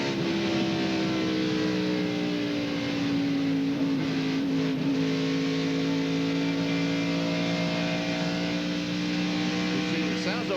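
NASCAR stock car engine at the 1997 Primestar 500, a sustained droning roar with steady pitch that rises and falls slightly, heard continuously from a trackside or onboard perspective with other cars blending in.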